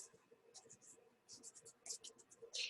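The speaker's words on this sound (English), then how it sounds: "as I'm shuffling the cards" A deck of tarot cards is shuffled in quick, soft papery riffles and scrapes that come in uneven bursts, faint and close, with no talking.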